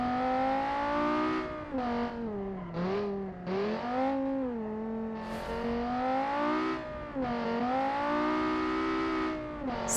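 Race car engine in a Le Mans testing session of a racing game, revving loudly and steadily with a smooth rising and falling pitch through gear changes, close and sustained with no talking.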